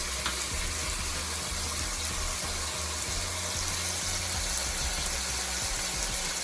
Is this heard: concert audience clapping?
no